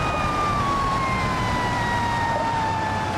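Ambulance siren at a motor racing circuit during Formula Three practice at the Belgian Grand Prix wails continuously in a slowly falling tone, loud and steady over a dense background rush, with no voices.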